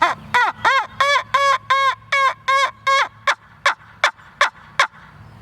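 A homemade wing bone turkey call produces a close, loud run of about a dozen raspy yelps in a steady rhythm, ending in several sharper, shorter clucks. No voices are heard.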